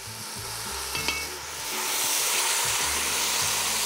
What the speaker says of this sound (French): Je déglace au vinaigre de vin